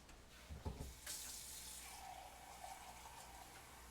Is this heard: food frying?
no